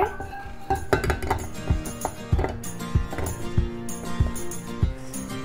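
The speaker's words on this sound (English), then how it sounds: "First I will put the bowl into the mixer." A mixing bowl set into a stand mixer during cupcake baking, with repeated close clinks and clatters of bowl and dishes knocking together in an irregular rhythm, no talking.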